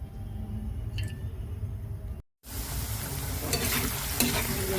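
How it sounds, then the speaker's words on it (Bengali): Onions frying in oil in a kadai wok for chow mein, with a steady close sizzle and scraping stir strokes, cut by a brief moment of silence midway before the frying resumes louder. "পেঁয়াজ ভাজা ভাজা করছি।"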